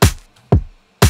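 Drum hits from a kick and snare pattern, the snare processed with a frequency shifter and transient shaper, three punchy, loud, dry strikes spaced about half a second apart.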